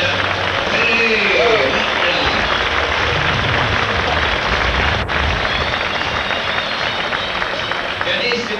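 A crowd applauds at an outdoor water ski show in Germany's Holiday Park, a continuous wash of clapping that holds steady for the whole stretch while an announcer's voice carries over it.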